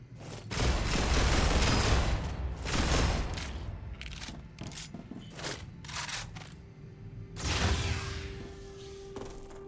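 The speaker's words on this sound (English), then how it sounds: "Changing mags. That sound." A gun magazine is changed in the video game StarRupture, producing a series of sharp mechanical clicks and clacks in quick bursts, with a couple of louder metallic swells and a faint steady tone underneath.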